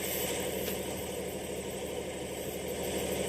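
Rocket Lab rocket engines roar at launch from LC-1A on New Zealand's Māhia Peninsula, a dense, continuous broadband rumble held at steady loudness with no voices.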